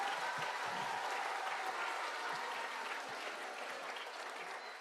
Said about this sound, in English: could we give another big round of applause to Sekolah Ciputra for hosting us again?